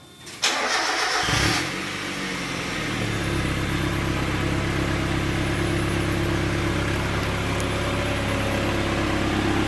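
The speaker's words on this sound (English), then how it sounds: "Give it a rev" A Mazda Miata fitted with a big exhaust starts up with a sharp burst, then settles into a loud, steady, rumbling idle that carries on close by for several seconds, alone with no talk.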